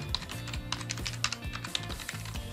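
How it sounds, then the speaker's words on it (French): Quick bursts of key taps on the numeric keypad of a Spirit Of Gamer Elite K9 keyboard, recorded close to the mic, irregular clicks in rapid clusters. "on peut faire des tests comme si on tapait sur le clavier numérique"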